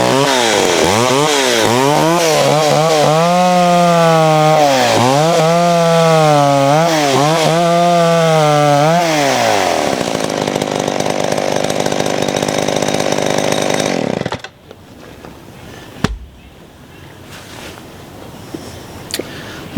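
Vintage McCulloch 610 60cc chainsaw revving in repeated rising and falling surges, then a sustained loaded snarl while cutting wood, loud and close, before cutting out to near quiet with a few clunks.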